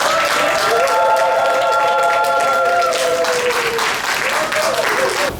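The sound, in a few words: wedding guests applauding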